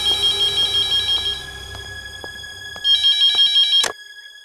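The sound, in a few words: telephone ringing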